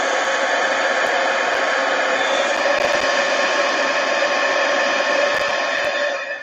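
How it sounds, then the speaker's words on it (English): A heat gun drying a wet, watery art journal page, a loud, steady whooshing blast of air that holds evenly for several seconds before cutting off at the end. "I'm gonna just dry this real quick. Heat gun."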